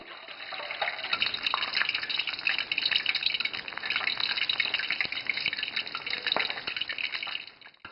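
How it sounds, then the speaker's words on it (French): Fish fries a second time in hotter oil, a dense bright sizzle and crackle of bubbling fat that holds steady and fairly loud before easing off at the end, with no one speaking. "Lorsque la température de l'huile est plus élevée, on frit encore une fois."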